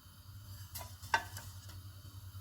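Whole spices, cloves, black and green cardamom, a cinnamon piece and cumin seeds, crackling in hot oil in a pan, a faint steady sizzle with a few sharp pops and ticks.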